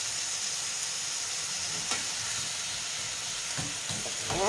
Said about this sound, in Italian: lasciamo rosolare un pochino e poi andremo a sfumare con un pochettino di vino